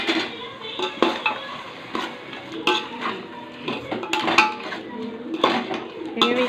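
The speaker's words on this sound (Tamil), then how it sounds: "பார்த்திங்கன்னா இந்த வேக வச்ச மட்டன் சேர்த்துக்கலாம்." Boiled mutton tipped into a pot of biryani and stirred, with a metal spoon scraping and clinking against the pot in uneven bursts and a light sizzle beneath, close and moderately loud.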